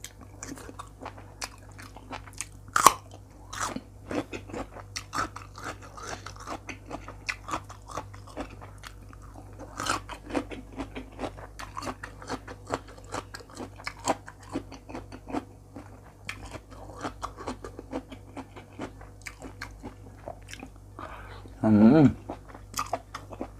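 Someone chews and crunches Isan food, such as raw beef tripe salad with fresh vegetables, in close, repeated bites with soft mouth sounds, and a brief louder rustle comes near the end.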